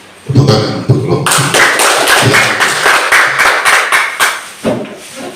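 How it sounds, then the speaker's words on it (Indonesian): A primary school class claps for a group, loud close hand claps that start sparse and then swell into a dense burst of applause lasting several seconds before tapering off. "tepuk tangan untuk kelompok"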